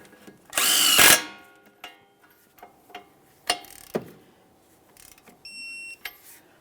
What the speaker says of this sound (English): Snug it up, torque it to 35 foot-pounds.